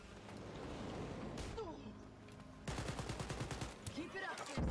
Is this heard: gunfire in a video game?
yes